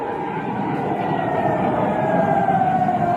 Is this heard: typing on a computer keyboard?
no